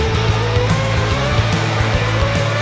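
Cartoon race cars speeding and overtaking, a steady low engine drone with rhythmic pulsing and a faint higher whine running throughout at fairly loud level, no talking.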